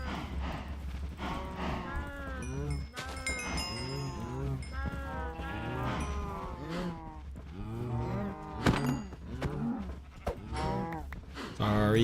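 Cows in the video game Minecraft moo repeatedly, a dense overlapping chorus of low drawn-out lowing calls from several animals, loud and continuous with a steady low hum underneath.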